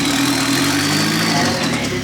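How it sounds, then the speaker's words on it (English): A drift car engine with chain slap rattles at steady, loud idle-to-mid revs, a dense mechanical clatter layered over a continuous engine drone that holds throughout. "What chain slap sounds like."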